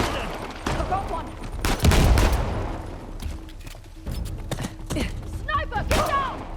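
Gunfire in the video game Uncharted: The Lost Legacy comes in irregular bursts of sharp shots and heavier thumps, with game voices speaking in between.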